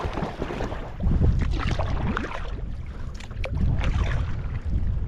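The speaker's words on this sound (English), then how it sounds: "That's how much the wind is pushing the left side of the kayak." Kayak paddling on the Ohio River in strong wind, with steady rushing wind and water noise, irregular paddle splashes and hull knocks close by, and no talking.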